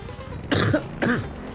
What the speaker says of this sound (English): I need to start muting my coughs.